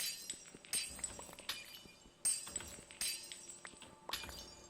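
Glass blocks in Minecraft break in a steady series of four or five sharp shattering crashes under an Efficiency 5 tool, evenly spaced with small clicks between, heard cleanly without voices.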